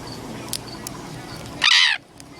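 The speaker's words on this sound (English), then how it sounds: "here's the big shy parrot" A large, shy parrot lets out a single short, harsh squawk at close range, loud and abrupt against a quiet room.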